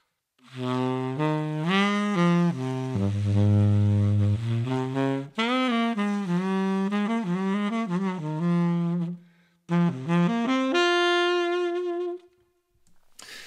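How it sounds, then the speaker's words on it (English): A breathy, soft saxophone playing a slow jazz ballad phrase in subtone, with airy, velvety, muted tone, alone and close, ending on a held note. "that soft, velvety, muted tone that you can get on sax"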